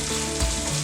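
Tadka of cumin seeds and ginger-garlic paste sizzling in hot oil for a Malvani taro-leaf curry, a steady close frying hiss with a brief louder surge midway, no voices.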